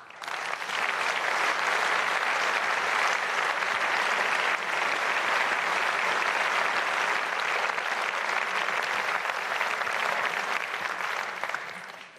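Dense, sustained applause fills a large hall at a political party's annual Epiphany meeting as the next speaker comes up. It stays loud and unbroken for about eleven seconds, then starts to fade at the end.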